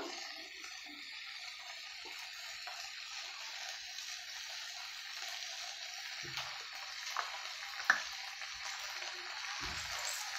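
Spices and chili powder sizzle in hot oil in a pan, a soft steady hiss with occasional crackles and stirring taps, quiet and close.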